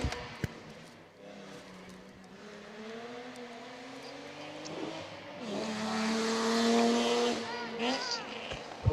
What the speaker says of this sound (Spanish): ya tenemos más vehículos bajando la calle